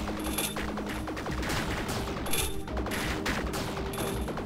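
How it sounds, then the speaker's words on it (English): Rapid enemy gunfire in the flash video game Viricide, dense bursts of shots layered over busy game music and effects, loud and continuous for a few seconds. "those guys can shoot at us"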